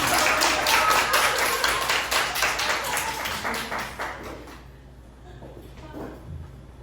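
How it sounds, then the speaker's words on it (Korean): An audience at a Jeonju youth networking lecture applauds the speaker. The dense clapping is loud at first, thins out and dies away after about four seconds, leaving a few scattered claps and faint room noise. "박수 한번 부탁드립니다."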